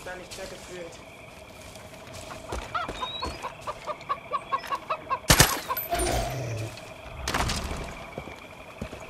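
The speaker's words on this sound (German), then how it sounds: "Der Huhn! Wir haben den Huhn getötet!" In Far Cry 5, a chicken lets out a rapid run of rhythmic clucks, followed by a loud sharp burst and further commotion, with someone talking over the scene.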